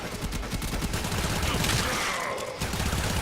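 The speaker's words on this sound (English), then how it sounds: "I'll take out my main weapon here. Oh, that's actually my revolver." Gunfire in Warframe rings out as a dense, continuous volley of loud shots with a brief pause near the end, set against game noise.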